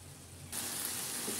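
Chicken meat hits a hot pan with oil for a potato and pointed gourd curry, and a sudden loud, steady sizzle erupts after a quiet moment, close and continuous.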